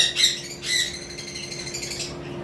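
Parblue lovebirds squawking and chirping, two loud shrill squawks early followed by softer, continuous chattering calls over a steady low hum, fairly close, no talking.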